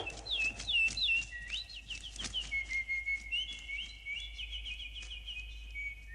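Bird chirping and whistling in quick, varied high phrases, fairly faint over a low background rumble, with a few soft knocks in between.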